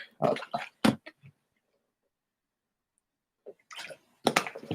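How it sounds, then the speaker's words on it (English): Gulps of water being drunk close to the microphone, a few quick wet swallows and slurps in bursts separated by a silent pause. "So let me drink some water real quick."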